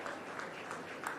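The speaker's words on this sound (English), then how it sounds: "And keep the clap going." Faint, distant audience applause fills a hall at the inauguration of Ahmedabad Design Week, a soft steady patter with a few sharper claps.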